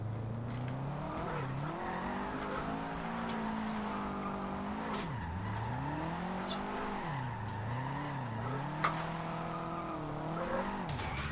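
A Subaru WRX STI in a racing video game revs and spins its tyres, the engine note rising and falling in repeated sweeps with a continuous squeal, heard fairly quietly and steadily throughout.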